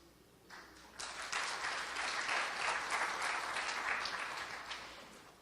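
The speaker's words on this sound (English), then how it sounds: "please give yourself a round of applause" Audience applause at an international finance summit, a dense steady patter of many hands that swells in after a quieter start and holds strong for several seconds before easing slightly.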